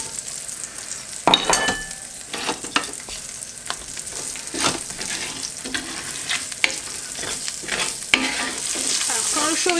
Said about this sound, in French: le demi chorizo qu'on a coupé en tranches et on va le faire dorer aussi un petit peu à son tour